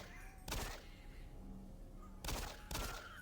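Three loud gunshots in the Doom 3 first-person shooter on Veteran difficulty, one around half a second in and a close pair near the end, each a sharp broadband blast over a low game ambience.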